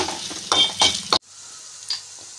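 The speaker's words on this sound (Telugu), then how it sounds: "కొద్దిగా కారం, ఇవన్నీ వేసి బాగా కలుపుకోవాలి" Spices and chopped vegetables stirred in a hot pan for a chapathi filling, with chili powder added, sizzling loudly in three strong scraping bursts before dropping to a softer, steady fry.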